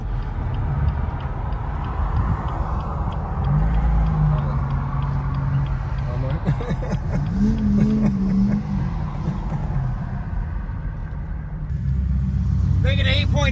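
A modified BMW M2 out on a test drive gives a low, continuous engine rumble that rises and falls in pitch as it accelerates and shifts, fairly close and loud, with voices faintly underneath.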